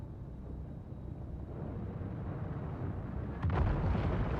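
A falling object crashes down and explodes in the video game Dune Awakening: a low rumbling build gives way to a sudden loud booming impact near the end.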